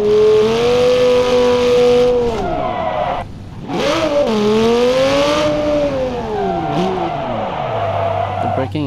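A Hurricane car in the BeamNG driving game, its engine droning and rising and falling in pitch as it accelerates and shifts gears, loud and close, with a brief dip in between.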